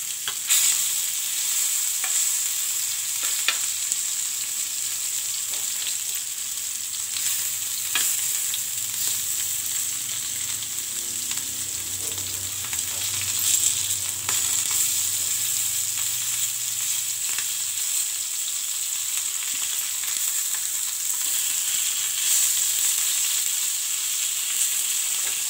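Fish fried in a pan for a village-style machha bhaja fry, giving a steady, close crackling sizzle throughout with occasional scrapes and clicks of turning, and no voices.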